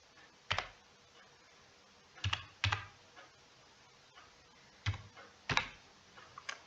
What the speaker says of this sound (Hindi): चलिए मैं कैप्चा कोड फिल करता हूँ।